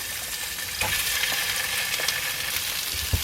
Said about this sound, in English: meatballs are in the pan. We're just gonna brown them off for a while